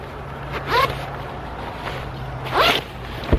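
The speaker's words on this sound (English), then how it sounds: "you zip the jacket up" A Marmot Minimalist rain jacket is zipped up outdoors in cold wind, giving two quick rasping zipper pulls about two seconds apart against a steady low breezy background.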